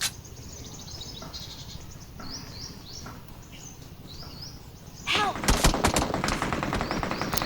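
Bursts of gunfire in PUBG Mobile ring out over a steady ambient bed with faint bird calls, growing louder and denser in the final seconds as rapid shots hit close by.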